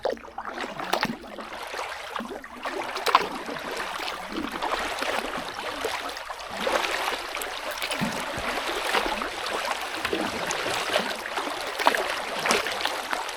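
A small boat is paddled up the Grand Union Canal toward Welford, with a steady wash of water and soft, irregular paddle splashes and trickles close by, continuing without talk.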